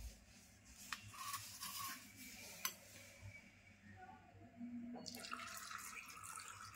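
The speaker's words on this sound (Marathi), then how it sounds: "आता याच्या पण पाणी टाकायचं आणि मीठ टाकायचं." Water is poured into a jar of fresh karonda berries with salt, giving a faint, quiet trickle and splash with a few soft knocks, the flow briefly pausing before resuming.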